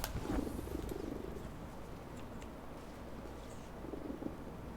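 A pet cat purring softly and steadily close to the microphone, a low continuous rumble with no talking.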